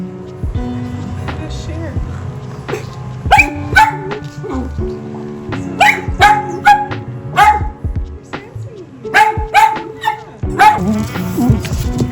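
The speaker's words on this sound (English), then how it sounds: "That dachshund is mad that the other dog took its toy." A dachshund barks repeatedly in sharp, loud bursts with yips and whimpers, upset after another dog took its toy, set against a busy indoor background with people talking.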